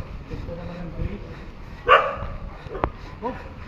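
A dog met along a charity motorcycle ride route gives a sharp bark near the middle and a couple of quieter yips, amid low background noise and murmuring voices.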